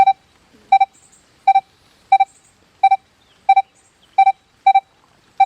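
Metal detector giving a crisp electronic double beep over a modern trash target, the paired tones repeating steadily about every 0.7 seconds, loud and clean against a quiet background.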